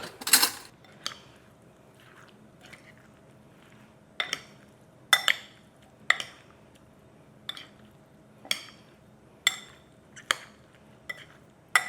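Shrimp ceviche ingredients with about a quarter to half teaspoon of garlic being stirred together in a bowl, giving a series of separate clinks and scrapes of a utensil against the dish, spaced roughly a second apart, close and fairly quiet with no talking.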